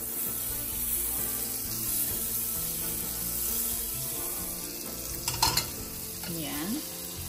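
Butter melting in a hot frying pan gives a steady, soft sizzle with light stirring scrapes and a few brief clatters near the end; no one speaks.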